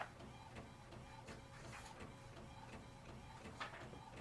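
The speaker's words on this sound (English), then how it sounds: "So I want you to see how it's printing out in color." An Epson WorkForce printer printing a colour test page, a faint steady mechanical whir with soft rhythmic clicks and paper-feed shuffles, quiet and continuous, with no talking.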